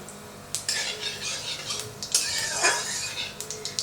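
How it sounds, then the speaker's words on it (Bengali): Whole cumin seeds and two cracked cardamom pods tempering in hot oil and ghee, with a steady close sizzle plus clinks and scrapes of a utensil stirring against the pan throughout. "তেলটা গরম হয়ে গেছে, তেলের মধ্যে দিয়ে দিচ্ছি ফোড়নে গোটা জিরে আর 2টো এলাচ।"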